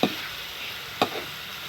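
Bitter gourd frying with pork cubes in a pan, a steady close sizzle with two brief stirring scrapes, no voices.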